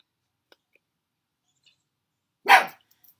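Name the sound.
dog barking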